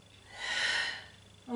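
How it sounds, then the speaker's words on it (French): A single audible breath during a yoga exercise, a soft airy inhale swelling and fading over about a second, close and alone, followed by the start of another sound. "Inspire et expire."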